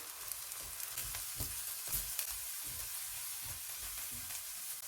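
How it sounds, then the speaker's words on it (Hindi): Chopped garlic sizzles steadily in a hot pan, a continuous crackling hiss with occasional louder pops, and no voices. "चॉप किया हुआ लहसुन डालेंगे, इसको भी 1 मिनट तक भूनेंगे।"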